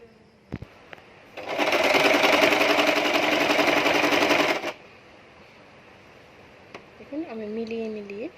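A sewing machine stitching a princess-cut nighty runs in one steady, rapid burst of about three seconds, close and loud, with quiet handling noises before and after and a brief voice near the end.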